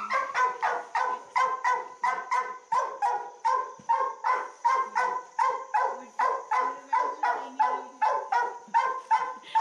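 A dog barks rapidly and steadily, a long unbroken run of sharp, evenly spaced yaps close to the microphone.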